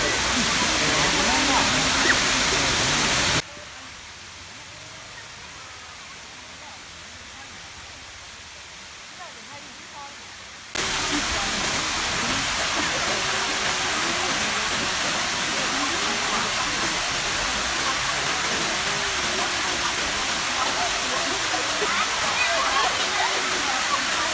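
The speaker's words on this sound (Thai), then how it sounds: "วันนี้เราพามาน้ำตกปูซานจังหวัดพะเยา" Phu Sang waterfall in Phayao, Thailand, roars as a steady broadband rush of falling water, loud and close, briefly dropping to a quieter, more distant wash before the full roar returns.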